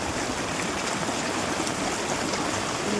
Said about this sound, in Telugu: ఇంత వాటర్ అది చూస్తూ ఉంటే చిన్నతనం గుర్తు వస్తుంది అనమాట